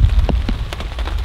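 Rain falls steadily on a tent during stormy fall camping, a dense close patter of drops with soft low rumbling underneath and no voices.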